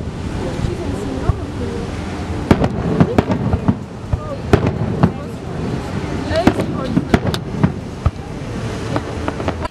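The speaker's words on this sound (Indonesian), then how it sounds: "kita balik lagi ke pantai untuk lihat kembang api firework" Repeated sharp bangs of fireworks burst at irregular intervals over a steady wash of surf and crowd murmur at Virginia Beach, with voices chattering throughout.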